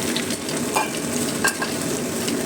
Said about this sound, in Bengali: এবার ওই তেলেই ফুলকপিটাও ভেজে নেব